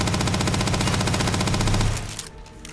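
The SR 7 PDW fitted with a bull barrel fires full-auto in the video game Starfield, a loud, dense stream of rapid shots for about two seconds before cutting off into a fading tail.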